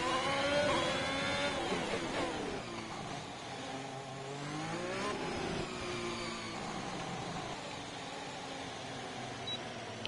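A race car engine on a lap of Monaco in a racing game played on a Logitech G923 wheel, whining up and down through gears in a continuous rising and falling drone.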